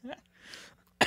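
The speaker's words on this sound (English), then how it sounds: "I'm just going to have a coughing fit over here." A brief vocal sound, then a breathy hiss, ending in one sharp, loud cough up close.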